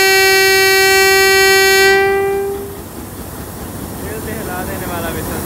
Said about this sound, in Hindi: हिला देने वाला विसल सुने